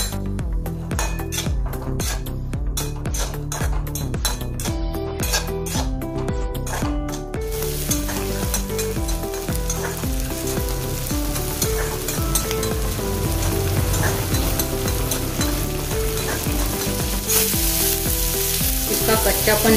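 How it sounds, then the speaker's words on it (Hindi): Green chickpeas frying in two spoons of ghee sizzle loudly and steadily. A utensil stirs them with occasional metallic clinks against the pan, over background music. "अभी जो हरा चना है उसमें हम फ्राई करेंगे"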